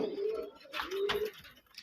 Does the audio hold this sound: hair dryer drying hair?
no